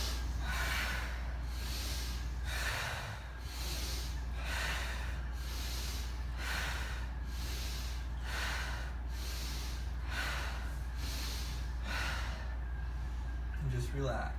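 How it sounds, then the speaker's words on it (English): A group breathes deeply and in unison as a breathing exercise, with seven slow, loud inhale-exhale cycles that repeat evenly against a steady low hum. "Let's do 7 breaths."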